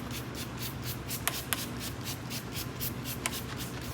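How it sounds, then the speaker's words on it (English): Repeated short bursts of spraying water, hissing in quick pulses with a steady low hum underneath and a few sharp clicks. "So now I'm going to spray some water."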